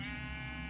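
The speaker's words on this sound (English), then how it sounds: "Sheep!" A Minecraft sheep gives one short, steady, buzzing bleat that sits close and clear in the game world.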